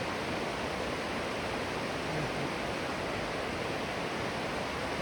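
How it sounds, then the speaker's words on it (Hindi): Sissu waterfall roars as a continuous, dense rush of falling water, steady and loud throughout with no voices. "ये है सीसू वाटरफॉल।"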